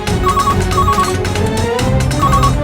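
A telephone rings steadily and fairly loudly through the whole stretch, its repeating electronic ringtone pulses heard alone over a dense dramatic background score.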